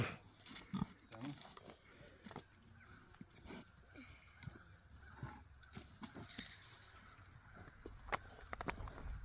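Piglets being let out onto pasture on a homestead, with soft grunts and oinks scattered under frequent nearby human talk and rustling farmyard activity.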